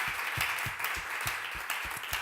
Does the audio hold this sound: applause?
yes